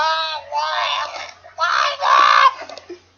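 A child screams loudly and close by in several long, strained bursts with short pauses between them, with no other sounds over it.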